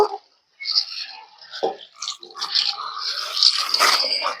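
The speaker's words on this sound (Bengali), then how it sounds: "এবার জল দিয়ে সাবুগুলোকে খুব ভালো করে ধুয়ে নেব।" Large sago pearls being washed by hand in a big bowl of water, with soft sloshing, swishing and dripping sounds that grow busier and more continuous toward the end.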